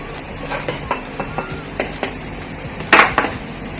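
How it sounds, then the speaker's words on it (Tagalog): Utensil stirring and clinking in a bowl while confectioner sugar, hot water and butter are mixed for a donut glaze, a run of light rhythmic taps followed by a louder scrape and clatter near the end, close up with no talking. "We're going to make sugar glaze, which is we are going to mix all the ingredients: confectioner sugar"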